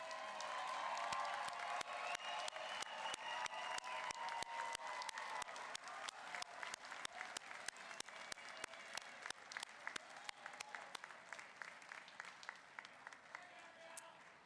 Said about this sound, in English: please stand so that we can publicly applaud you